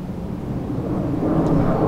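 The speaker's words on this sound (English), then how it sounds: "A few planes are very near Gatwick Airport." An airplane passes overhead near Gatwick Airport, heard from woodland beside a 13th-century stone church: a low, broad rumble that swells slightly louder toward the end, steady and without voices.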